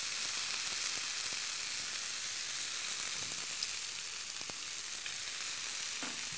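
Chicken pieces sizzle on a hot grilling pan with a loud, steady, dense hiss that never lets up, heard close with only faint occasional crackles and no voices.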